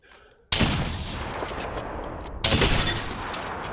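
R9 gunfire in the video game Apex Legends: a loud, rapid automatic burst that starts sharply and is followed moments later by a second burst, with continuous crackling shots throughout.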